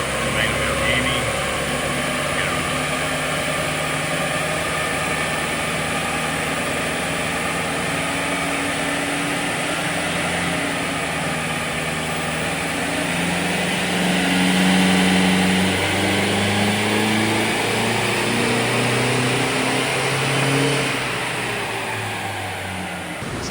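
A 48V N80 Toyota Hilux Rogue engine with a 3-inch exhaust and muffler revs steadily under load on a dyno, a loud, continuous drone and harmonic whine, swelling slightly midway before easing off near the end.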